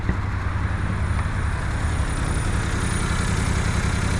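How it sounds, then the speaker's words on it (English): A Suzuki Kei's small engine idles with a misfire, a steady low rumbling drone with faint irregular pulsing, close and continuous without talk. "So you can kind of hear the misfire now."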